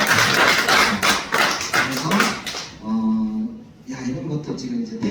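A short burst of audience clapping at a cryptocurrency presentation, sharp and fairly near for about three seconds, then giving way to someone speaking.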